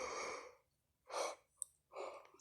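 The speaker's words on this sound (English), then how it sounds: "They keep on making me yawn" A man yawns audibly three times in a row, each a breathy, drawn-out exhalation with short pauses between, close and fairly quiet with no talk over it.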